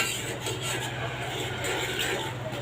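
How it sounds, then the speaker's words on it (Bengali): Chicken curry meat being stirred and fried down in a pot with spices, a continuous scraping and rubbing of a utensil against the metal with light clinks, close and steady. "অনেক কষাই নিতেছি ভালো করে"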